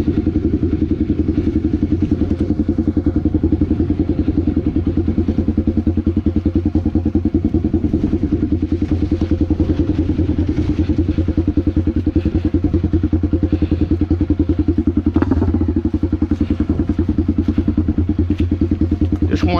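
A Honda CB motorcycle with no trail tyre on the front rumbles loudly and steadily while descending a rough off-road dirt trail, its low engine drone close and unbroken throughout.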